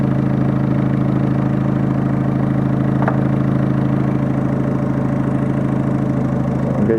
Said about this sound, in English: So the engine's running.